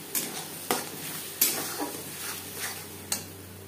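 Tomato paste with ginger and green chilli paste cooking in a pan for a fish curry, a soft sizzle under a handful of sharp spoon scrapes and taps against the pan at an uneven pace.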